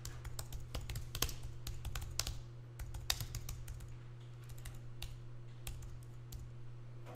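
Keys tapped on a computer keyboard in bursts of quick clicks, then slower scattered presses, close and quiet over a steady low electrical hum.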